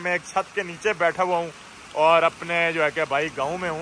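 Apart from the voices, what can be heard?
hail and rain falling on a roof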